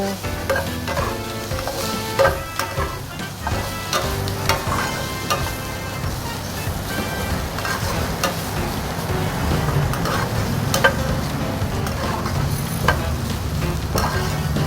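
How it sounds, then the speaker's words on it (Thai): Tofu and chopped preserved radish are stir-fried in oil for vegetarian fried mee sua, with loud continuous sizzling broken by repeated scrapes and clacks of a spatula against the pan and no speech. "เอาเต้าหู้ไปซิกหนึ่ง แล้วก็เอา ใช้โป๊ะ สับหนึ่งช้อนโต๊ะนะคะ ใส่ลงไปผัด กับน้ำมัน"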